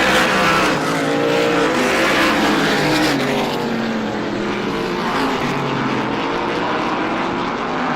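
SBM 125 race cars lapping the Star Speedway oval, their engines merging into a steady, continuous high-pitched roar that holds loud throughout with no talking over it.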